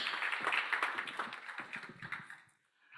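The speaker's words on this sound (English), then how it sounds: "please help me welcome, round of applause for her already" Brief audience applause at the World Food Forum Startup Innovation Awards finals, a quiet patter of many hands fading out within about three seconds.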